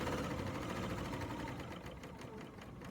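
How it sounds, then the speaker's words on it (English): A Bernina serger overlocker runs steadily, sewing binding onto a quilt with a fast, continuous mechanical whir and rapid needle chatter close by and fairly quiet throughout. "I'm going to sew till my needle comes to the very edge"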